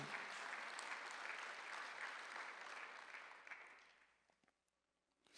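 Church congregation applauding during a Thanksgiving Sunday worship service, a dense wash of clapping that holds steady for several seconds, then thins out and fades near the end.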